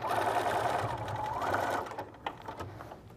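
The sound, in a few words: sewing machine stitching a quilted lining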